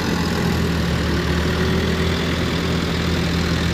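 Volvo G930 motor grader engine labouring under load while climbing a slight incline in second gear, a steady loud low diesel drone with constant rumble and vibration, close by and without talk.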